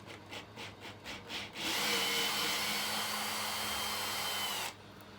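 A Makita DHP453 cordless drill motor whirs steadily for about three seconds, trying to free a jammed screw end stuck in a vise, with rattling handling noises just before it starts and quiet after it stops.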